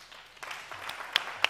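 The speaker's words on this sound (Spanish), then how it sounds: "os pido un fuerte aplauso para el Maquetón" Applause from an audience at the Maketón Maeloc 2020 music awards in Vigo, a fairly steady wash of clapping with a couple of sharper individual claps standing out near the end.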